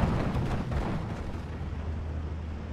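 A heavy rumbling roar and booming bursts from an aircraft strafing run in Steel Division 2. It is loudest at the start, then settles into a sustained, dense low rumble with no talk over it.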